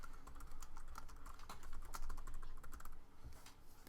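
Quick, steady keystrokes clatter on a computer keyboard, a dense run of soft close clicks with no voices.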